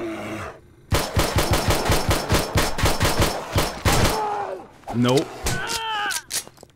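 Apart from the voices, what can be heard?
44 Magnum gunshots at a bear in video game 7 Days to Die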